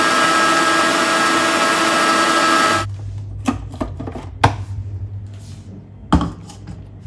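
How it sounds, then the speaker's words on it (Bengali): A mixer grinder blending ginger and green chilli into paste roars loudly and steadily for about three seconds, then cuts off, leaving a few soft knocks and clatters in a quiet room. "এবার আমি মিক্সিতে পেস্ট করে নেব।"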